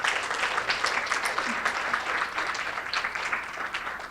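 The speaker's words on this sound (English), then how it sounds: "let's give him a round of applause" Steady round of applause from an audience at a university alumni event, dense sustained clapping filling the room for several seconds with a faint voice underneath.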